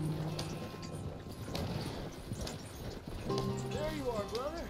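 Hooves clip-clop rhythmically as a horse gallops in the video game Red Dead Redemption 2, with a voice talking over the hoofbeats and a brief musical tone toward the end.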